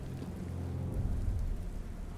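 Rain falls steadily in the video game Batman: Arkham Knight, a dense low wash with a faint roll of thunder swelling in the middle, with no voices.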